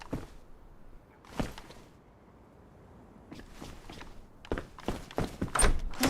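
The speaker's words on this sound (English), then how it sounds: "Sounds like someone's tapping as if they were repairing their boots or something" Sharp tapping and knocking in the video game DayZ, like someone repairing boots: a couple of isolated thuds early, then a quickening cluster of close, crisp taps near the end, with quiet ambience between.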